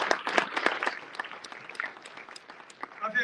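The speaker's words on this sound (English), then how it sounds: "Give a round of applause." An audience at a political event with a congressman gives a round of applause, scattered hand claps that swell briefly and then thin out into sparse claps, with some talk mixed in.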